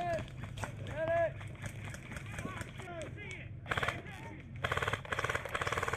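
Airsoft rifles fire in bursts of rapid clicks and pops during an overnight milsim game, with a CYMA CM028 AK-47 in use; players shout and talk over the shots, which grow denser toward the end.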